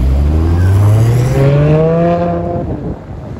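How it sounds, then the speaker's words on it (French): A Maserati GranTurismo sweeps past on a Paris street at night, its engine note rising, then falling away as it passes close by, loud at first and fading toward the end. "Regardez ce qui passe à côté de moi. La dernière Gran Turismo Maserati. Ah, ce que j'aime bien, c'est qu'on entend bien le bruit"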